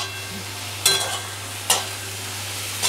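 Onion, garlic and ground spices frying in a pan for a Bengali potol chingri dorma, with a steady low sizzle and two brief bursts of stirring scrapes, close and alone without voices.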